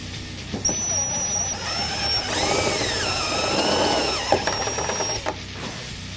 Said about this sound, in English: Okay, we drilled it out to 5/8